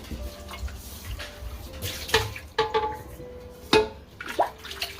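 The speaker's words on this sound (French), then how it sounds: "Toujours laver sa marmite" Water sloshing and splashing in a cooking pot as it is washed, with clinks of the pot and intermittent splashes close by, no talking.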